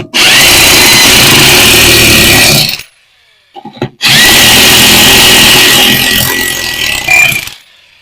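A loud power tool runs down the wheel lug nuts on a Humvee, with two long, close whirring bursts separated by a brief pause and a few faint knocks.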